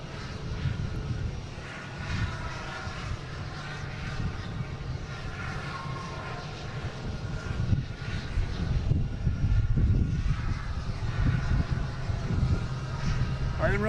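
An Aer Lingus Airbus A321neo jet at Boston Logan airport produces a continuous engine rumble that grows louder toward the end, with a person talking over it throughout.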